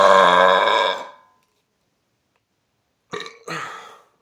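A loud, long human burp about a second in length, then a pause, then two shorter burp bursts close together, all sounding alone without any talk.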